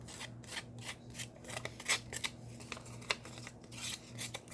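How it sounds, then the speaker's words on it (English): Close, quiet scraping of scissors roughing up a sheet of paper to age it, a run of irregular rasping strokes with short gaps between them. "what I'm going to do is take my scissors and just rough it up some more"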